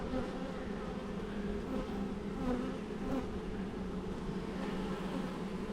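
Honey bees drone in a dense, steady buzz around an open long Langstroth hive during an inspection, close and continuous without any talk.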